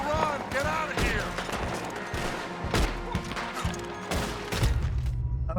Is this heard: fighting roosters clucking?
no